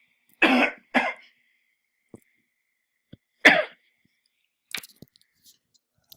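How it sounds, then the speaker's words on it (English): An adult man coughing indoors in a quiet room, two harsh coughs close together, a pause, then another cough, followed by a few faint clicks and small mouth noises. "I had a cough."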